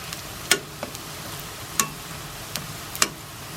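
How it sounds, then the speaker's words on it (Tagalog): Pork for sweet and sour pork fries in a pan with a constant sizzle, broken by a few crisp knocks and clicks as the pieces are turned. "Baligtarin natin para yung kabilang parte naman ng maprito."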